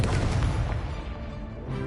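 The Confringo fire spell in Hogwarts Legacy goes off as a heavy, booming explosion with a rumbling low burst. It is loud and close and fades over about two seconds.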